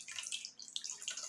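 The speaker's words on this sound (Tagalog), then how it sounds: "Lagyan natin ng konting patis." A small amount of fish sauce is poured into a chicken marinade made with Sprite, making a faint, brief trickle and drip that is quiet and close.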